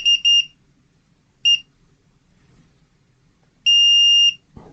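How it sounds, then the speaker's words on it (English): A multimeter emits short high beeps during a continuity test on a PS5 DualSense controller: two quick chirps, a single beep, then a longer sustained tone, with a quiet room between them. "I'm going to test continuity here."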